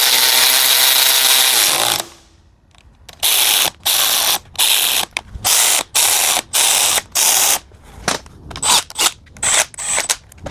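A power ratchet snugs down bolts on a Tesla large drive unit being rebuilt for a Toyota RAV4 EV. A loud continuous whir is followed by a string of sharp, evenly spaced bursts as each bolt is run in.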